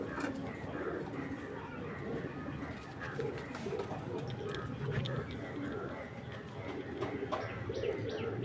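Racing pigeons, bought locally in Bangladesh, coo softly and repeatedly over a steady, busy background with faint murmuring voices throughout.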